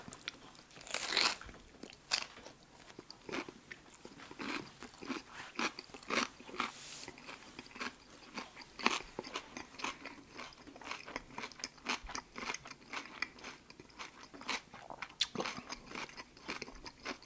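Close, crisp crunching and chewing of a veggie salad wrap, sharp bites popping out over a steady run of softer chewing.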